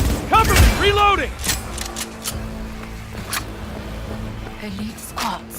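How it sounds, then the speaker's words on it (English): Mechanical clicks and metallic clacks of a weapon being reloaded in Cyberpunk, close and crisp over a low game hum, following a shouted voice and a burst of combat noise at the start. "Cover me! Reloading!"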